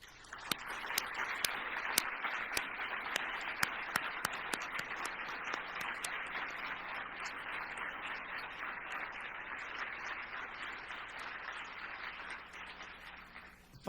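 Sustained applause from an audience at a health care research and innovation forum, a dense wash of many hands clapping continuously at even loudness for over ten seconds, with a few sharper claps standing out near the start.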